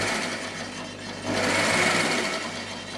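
A sewing machine runs a back stitch on fabric, giving a fast, steady mechanical whir close up that rises slightly in intensity partway through.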